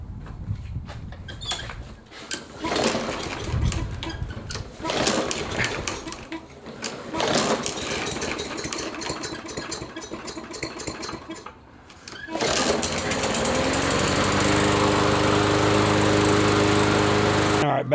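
A Briggs & Stratton lawn mower engine with a previously broken carburetor runs steadily and loud, its buzzing drone continuing without a break after a stretch of clattering and handling noise.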